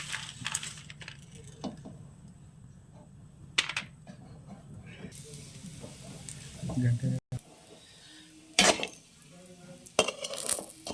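Dates frying in ghee over a low flame, a soft steady sizzle with occasional utensil clinks and scrapes against the pan, with a voice talking at times.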